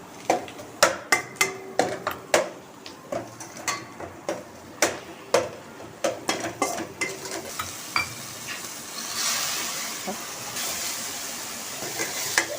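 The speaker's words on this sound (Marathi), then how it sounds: "थोडीशी कोथिंबीर घालून घेऊया. आणि छान हे परतून घेणार आहोत." Masala and coriander sautéed in a pan over a low gas flame, with a steady run of distinct scraping stir strokes, then a softer continuous sizzle toward the end, close and alone with no talk.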